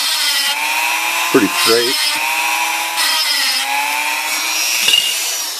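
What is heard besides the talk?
Dremel rotary tool cutting a typewriter paper guide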